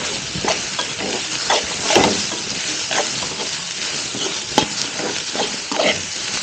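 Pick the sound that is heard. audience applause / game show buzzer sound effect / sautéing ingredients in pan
sautéing ingredients in pan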